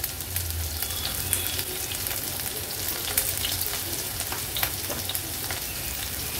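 Chopped onion frying in hot oil with crushed garlic cloves and green chilli pieces, a dense continuous sizzle with scattered pops and occasional stirring, close and loud with no talk.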